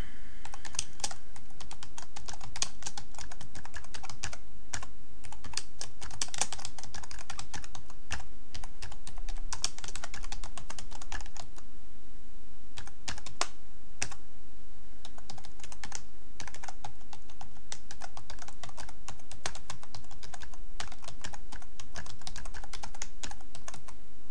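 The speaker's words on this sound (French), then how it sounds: "je vais taper l'adresse de l'expéditeur" Steady typing on a computer keyboard while entering an address into a LibreOffice letter, rapid irregular clicks running continuously for over twenty seconds, close and clear with no talking.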